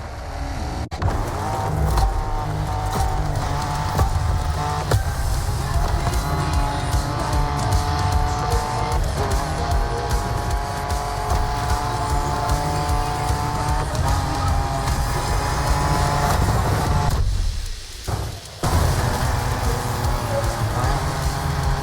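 Racing car engine in The Crew Motorfest driven off-road into the wild across a volcanic island, a steady loud drone with shifting pitch and bursts of tyre and gravel noise, briefly dropping out near the end.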